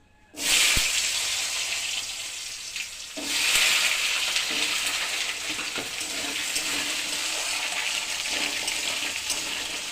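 Potatoes dropped into hot oil, setting off a loud burst of sizzling that swells again a few seconds later and then holds as a steady, bright frying hiss.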